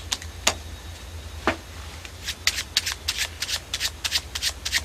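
Deck of playing cards shuffled by hand during a card-sleight demonstration, heard as a few sharp riffles followed by a rapid close run of crisp card snaps over a low steady hum.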